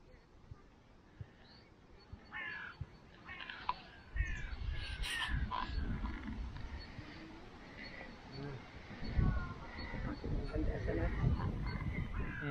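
Crows cawing among other birds in an English country park, Clumber Park in Nottinghamshire, as people nearby feed them a loaf of bread; calls come in scattered bursts over steady outdoor rustle, with talk running underneath.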